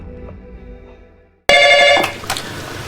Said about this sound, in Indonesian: Samoto pun kaget saat mendapat telepon